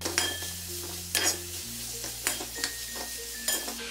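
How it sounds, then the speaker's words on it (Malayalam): Chopped banana and grated carrot stirred in hot ghee in a heavy-bottomed bronze pot, a spatula giving four evenly spaced scraping strokes over a faint sizzle and soft background music. "നെയ്യ് ചൂടാകുമ്പോഴേക്ക് ഈ അരിഞ്ഞു വെച്ചിരിക്കുന്ന പഴവും ഗ്രേറ്റ് ചെയ്ത ക്യാരറ്റും കൂടെ ഇട്ട് ഇളക്കി കൊടുക്കാം"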